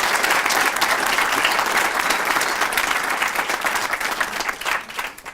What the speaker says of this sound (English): Can I get another round of applause for that beautiful rendition of the national anthem by Miss Alicia Solomon?